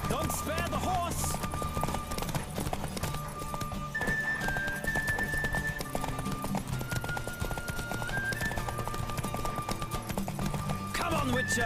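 Horse hooves clip-clop at a steady galloping rhythm during a race in The Witcher 3: Wild Hunt, loud and continuous, with a rider's voice and a snorting whinny heard over the running steps.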